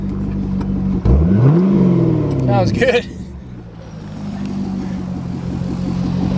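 A 2007 Chevrolet Corvette 3LT wide-body coupe engine rumbling after starting, with a brief loud rev followed by a settling low idle, close by, with someone speaking briefly over it.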